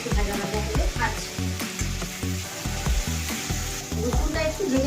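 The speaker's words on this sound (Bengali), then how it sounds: "রসুনটা একটু ভেজে নিতে হবে ভালো করে, নইলে রসুনের গন্ধটা মাছে লাগবে।" Garlic frying in oil in a pan, a loud close sizzle with stirring scrapes and clatters in an uneven rhythm, kept up throughout.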